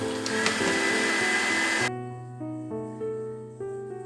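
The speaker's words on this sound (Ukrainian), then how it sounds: "Беремо наше масло і збиваємо на найбільшій швидкості міксера до білого та пишної маси" Electric hand mixer whipping butter at top speed until pale and fluffy, a loud whirring motor whine for about two seconds, then cutting to lower, steadier hums that shift in pitch.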